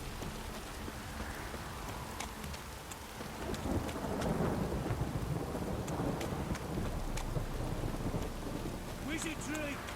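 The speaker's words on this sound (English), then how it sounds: "If it don't stop raining, my arse will rot off." Rain pours steadily in The Witcher 3 while low thunder rumbles and swells beneath it, growing heavier toward the middle and continuing without a break.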